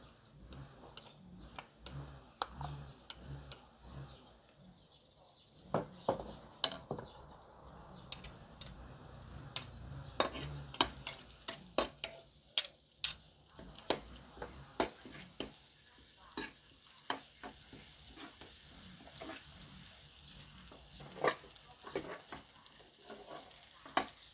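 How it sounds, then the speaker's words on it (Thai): Garlic, coriander root and pepper paste stir-fried in oil in a wok for a Thai pork-rib bamboo-shoot soup, with quiet sizzling and many sharp, irregular spatula clacks against the pan, growing busier as it goes on. "เอาสามเกลือลงไปผัดนะคะ"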